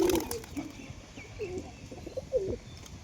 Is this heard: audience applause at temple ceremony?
no